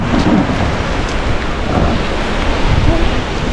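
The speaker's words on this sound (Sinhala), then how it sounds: "මේ එතනනුත් යනවා චූටි වතුර පාර" Small stream of water flowing at Bomburu Ella waterfall in Sri Lanka, a dense, steady rushing wash that stays loud and close throughout with no clear breaks.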